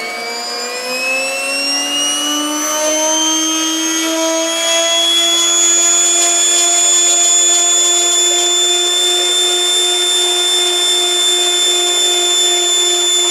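A Siai Marchetti aircraft engine starting up makes a loud, continuous whine that rises in pitch and then holds steady, close by with no talk.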